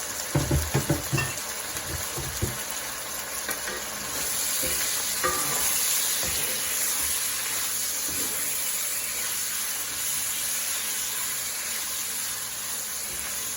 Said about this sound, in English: And this does not take long in the wok to stir fry.